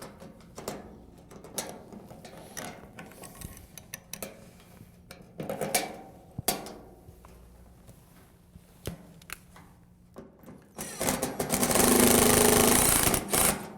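Screws are turned by hand into a bathtub drain trim plate, giving sparse metallic clicks and scrapes with quiet pauses between them, then a loud burst of hissy, rattling noise near the end.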